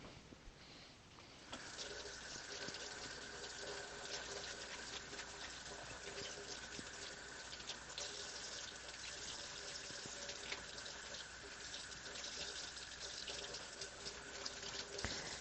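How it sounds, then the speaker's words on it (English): Water runs from a tap in a steady, continuous rush that starts abruptly after a short quieter moment and keeps flowing at an even level. "I'm going to pour us some water."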